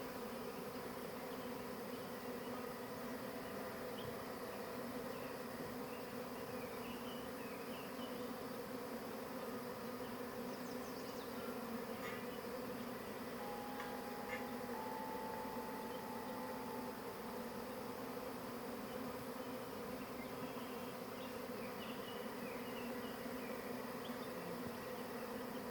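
A honey bee swarm hums in a dense, continuous drone outdoors, steady and even for the whole stretch, with individual bees occasionally buzzing closer past the listener.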